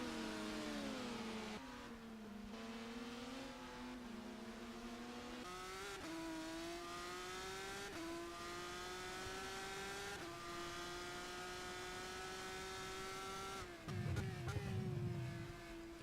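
A GP3 race car at Hidden Valley in the rFactor 2 racing simulator drones with a loud, sustained engine note. The pitch climbs steadily through the rev range, broken by several quick gear-change dips and a rougher burst near the end.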